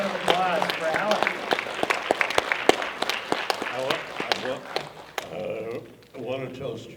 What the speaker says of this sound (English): Round of applause for Alan.